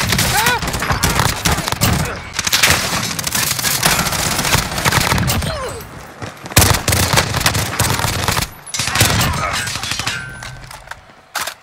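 Gunfire in the video game Warzone comes as dense, rapid bursts and single shots, loud and close, with several brief pauses, while a player talks over parts of it.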